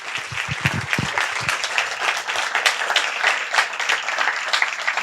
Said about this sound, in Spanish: Un aplauso para el público